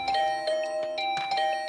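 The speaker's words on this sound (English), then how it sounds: "I started to furiously ring the bell over and over." In The Hundred Line: Last Defense Academy video game, a doorbell is rung furiously over and over. A rapid string of bright, tonal chimes overlap one another for about two seconds.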